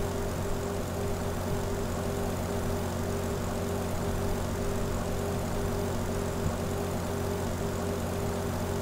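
A Yak-18T propeller plane in Microsoft Flight Simulator drones steadily as it accelerates, with a continuous, even engine and propeller hum and no voices.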